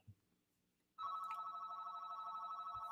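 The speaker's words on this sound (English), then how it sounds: "do you want to apologize about the phone call in the background?" A telephone rings in the background during a discussion about the Supreme Court. After a second of near silence, a steady electronic ring starts and holds unbroken to the end at moderate loudness. No one speaks over it.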